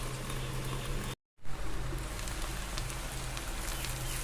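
Potatoes simmering in a pan on a low flame give a steady, dense crackling bubble like light rain, broken once by a brief moment of silence, with no voices.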